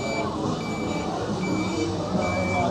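A parade truck reverses with its warning beeper sounding in a steady, repeating high pulse over a continuous engine rumble and crowd noise at a street parade.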